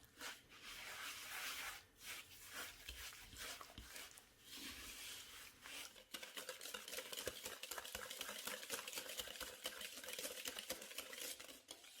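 Butter, sugar, an egg and vanilla extract being stirred together in a bowl, an uneven run of close scraping, rubbing and knocking strokes against the bowl, with no voices.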